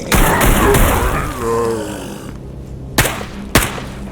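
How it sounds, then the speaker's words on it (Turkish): A loud explosion from the Stalker GAMMA video game booms at the start, followed by a rumbling tail and two sharper blasts or shots further off near the end, with faint voice-like sounds in between. "Patlama oluyor, adam duyuyor, ben de duyuyorum."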